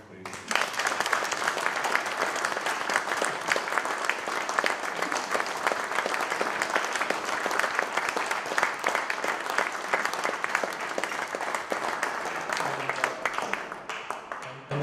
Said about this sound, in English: I'd like you to give a big round of applause, please.